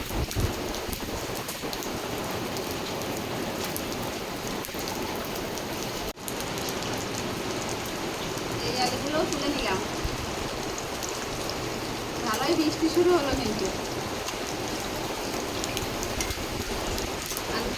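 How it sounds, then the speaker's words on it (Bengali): Rain falls outside during home cooking, a steady dense patter and hiss that continues throughout, with faint voices and kitchen sounds underneath. "বৃষ্টিতে আর শোনা যাচ্ছে না কোনো কিছু"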